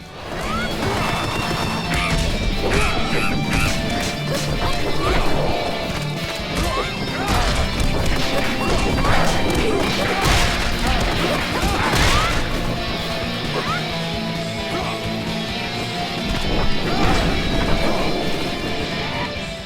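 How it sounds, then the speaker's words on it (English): Arcade-style brawler combat from Fight'N Rage: rapid punches, smacks and crashing hits pile up over a driving rock soundtrack, dense and loud throughout. "Powerful sound effects combined with a rockin' soundtrack really keep you engaged."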